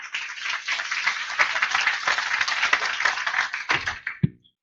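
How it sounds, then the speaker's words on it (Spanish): Conference audience applauds with sustained, dense clapping for about four seconds, then it quickly fades out. "pido un fuerte aplauso a Fárida y a Daniel, por favor."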